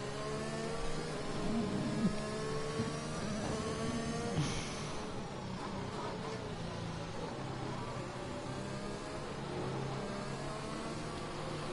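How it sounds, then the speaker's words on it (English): Race car engines in the F1 2021 video game hum at low, steady revs while circling slowly behind the safety car at Bahrain, forming a continuous faint drone with no talking. "So yeah, Robin going very slow under the safety car here"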